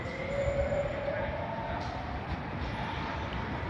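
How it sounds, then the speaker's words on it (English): A train leaving a station by an airport terminal rumbles steadily nearby with a faint tonal whine, a continuous mechanical drone without voices. "Trains just left."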